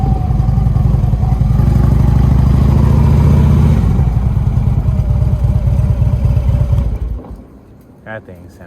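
A 2009 Harley-Davidson motorcycle with a very loud exhaust idles and rumbles up close in a deep, lumpy throb for several seconds, then falls quiet, with voices talking over it.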